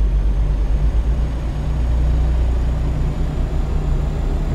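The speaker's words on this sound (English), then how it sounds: "This Freightliner engine is quiet." A Freightliner truck engine in American Truck Simulator idles with a steady, quiet low hum and drone, constant and unbroken throughout, with no voices.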